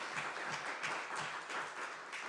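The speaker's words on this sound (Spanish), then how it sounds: "Pueden darle un fuerte aplauso al Señor" A church congregation claps together in a steady, rhythmic burst of applause that carries moderately loud and even throughout, with no speech on top.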